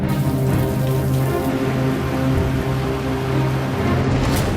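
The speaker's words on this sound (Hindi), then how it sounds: "हिमाचल प्रदेश में बारिश का दौर फिलहाल थमने वाला नहीं है।" Heavy rain pours down in Himachal Pradesh, a steady, loud hiss of drops striking surfaces that carries on unbroken throughout.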